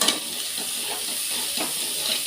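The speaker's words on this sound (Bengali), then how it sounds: "এই যে মশলাটা কষিয়ে নিচ্ছি।" Ginger, cumin, turmeric, green chili and bay leaf frying in oil for a fish curry, a close, steady sizzle with soft scraping stirs, brief and unbroken, no voices.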